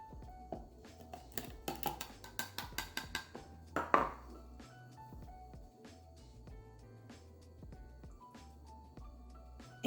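Cottage cheese dessert ingredients with protein powder, sweetener and lemon juice being mixed in a bowl, giving a run of rhythmic clinks and scrapes, then quieter stirring over a low background hum.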